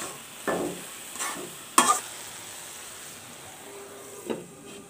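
Dried loitta fish cooking with bottle gourd leaves in a pan, a soft continuous sizzle broken by a few sharp scraping stirs, close and without talk.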